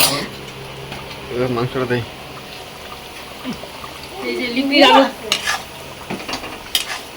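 Meat cooks in a pan as it is stirred, with soft sizzling and a few scraping, clinking stirs, set against a busy home kitchen where people chat in Bengali nearby.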